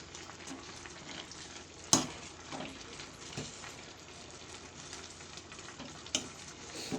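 Spinach greens being stirred into rice in a pressure cooker, a low, soft sizzle with faint scraping and two brief louder knocks of the spoon, heard up close with no talking.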